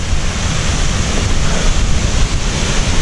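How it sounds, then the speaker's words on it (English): A waterfall in woodland during heavy rain gives off a loud, unbroken broadband roar of rushing water, close and steady throughout with no voices. "It's a waterfall,"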